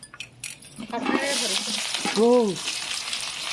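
Chicken stirred in a hot pan over a charcoal fire, with onion and chili, sizzling and frying in a steady hiss with a few utensil clinks, under close voices talking.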